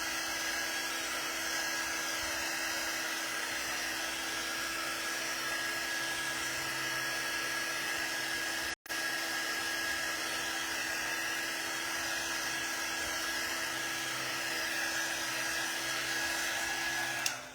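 A hair dryer blows steadily to dry chalk paint on a magnet, a constant close whirring hiss with a faint tonal whine that cuts out briefly midway and resumes.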